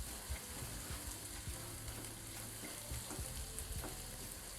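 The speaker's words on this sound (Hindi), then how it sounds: "मसाले अच्छे से भून चुके हैं।" Spices fry in a pan for a kaleji burger, Karachi street-food style, making a dense, continuous crackle with scattered louder pops and light stirring scrapes.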